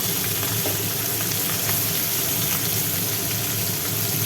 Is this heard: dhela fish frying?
yes